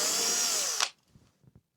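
A power drill whirs steadily as it drives supplied screws into a ceiling fan mounting bracket, then cuts off abruptly, followed by a few faint clicks and taps.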